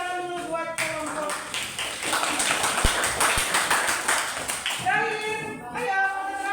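Classroom of high school students clapping for a student group, a dense burst of applause between stretches of a woman's speech, with a couple of sharp taps mid-burst.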